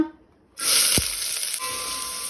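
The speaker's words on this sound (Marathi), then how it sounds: "कांदो आमकां तळसून घेवपाक जाय।" Finely chopped onion hits a pan of heated oil after a brief near-silence, bursting into a loud, close sizzle that continues as a steady crackling hiss.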